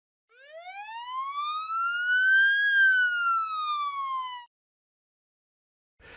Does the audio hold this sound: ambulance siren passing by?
yes